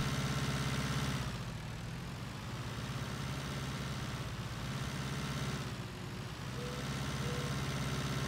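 A tractor engine in Farming Simulator 2019 idles with a steady, low droning rumble that swells slightly at moments, heard alone and fairly constant throughout.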